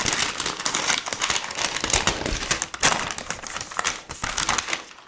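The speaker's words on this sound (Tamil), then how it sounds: "இப்போ இந்த கீபோர்டை ஓப்பன் பண்ணிடலாம்." Packaging crinkles and rustles close up as a Redmi Pad keyboard is unboxed, with bursts of crackling plastic and paper handling that come and go in quick, irregular clusters.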